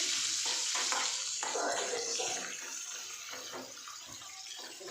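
Chopped onion fries in a pan alongside already-fried peanuts for kanda pohe, giving a continuous bright sizzle. Uneven stirring scrapes run through it, with no talking.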